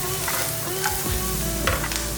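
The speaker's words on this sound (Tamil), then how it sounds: "நல்ல வெங்காயம்லாம் நல்லா வதங்கிடுச்சு." Onions sizzle steadily in a hot pan, with a few soft scrapes of stirring, close and without talk.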